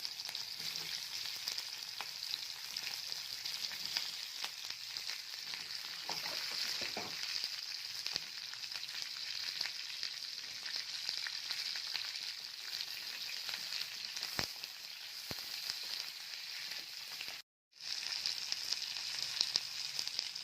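Onions frying in hot oil for crab curry, a steady, even crackling sizzle that carries on for a long stretch with a brief dropout near the end, moderately quiet and close.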